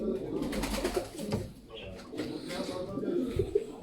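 Pigeons in a loft coo in soft, repeated throaty calls, close by, with someone talking over them.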